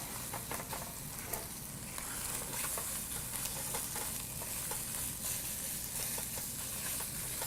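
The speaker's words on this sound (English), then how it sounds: "you just keep pushing them down until they're starting to toast and brown on the sides" Bread pressed down to toast and brown in a hot pan beside cooking eggs, a steady close sizzle and crackle running throughout with faint light ticks.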